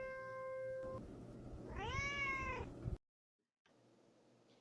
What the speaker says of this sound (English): Meet our adoptable cool cats, Sweetie Pie and Chloe